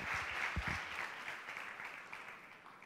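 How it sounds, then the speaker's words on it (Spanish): An audience applauds at a business innovation talk in an auditorium, a dense burst of clapping that is fairly faint and distant and fades gradually over a few seconds. "Un aplauso."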